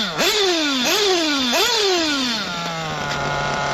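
A warmed-up Reds 521 Sport nitro engine idles and is blipped three times in quick succession, each rev whining up then sagging, before settling into a steady high buzzing idle, close and loud.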